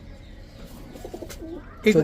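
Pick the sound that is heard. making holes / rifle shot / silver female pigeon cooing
silver female pigeon cooing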